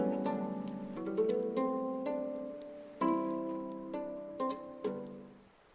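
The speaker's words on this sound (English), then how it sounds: "Here is the sound of lyre." Ancient Greek lyre plucked in a slow melodic line, clear sustained string notes ringing over one another with distinct attacks roughly every second, alone and moderately loud.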